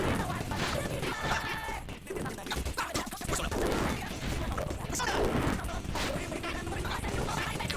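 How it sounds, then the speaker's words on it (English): A Fire Breath attack in the Persona video game erupts as a dense, crackling roar of burst-like noise that runs continuously and loudly throughout, with a voice speaking underneath. "Fire Breath."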